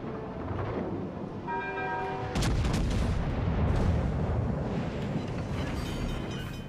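Naval guns on an enemy ship in World of Warships: Legends let loose one heavy boom that rolls into a rumbling tail over a steady drone of game sounds.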